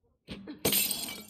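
A thrown glass bottle shatters in The Last of Us Part 2, a sharp, bright crash that rings out loud and close after a couple of soft thuds, with debris settling briefly.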